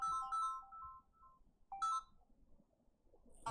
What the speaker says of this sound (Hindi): ये बार बार एक फ़ोन आ रही है